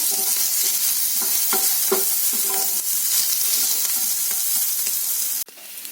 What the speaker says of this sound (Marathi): त्यात आपल्याला उभा चिरून घेतलेला कांदा घालायचा आहे दोन्ही पण व्यवस्थित भाजून घ्यायचे आपल्याला